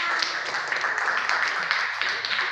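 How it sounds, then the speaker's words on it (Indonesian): A classroom full of people claps together, a soft, steady patter of applause heard from a distance. "beri tepuk tangan kelompok pertama"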